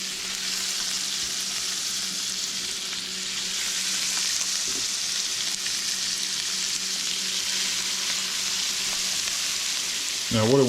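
Small trash fish sizzle in a frying pan, a loud, steady crackling hiss throughout with a brief clatter near the end.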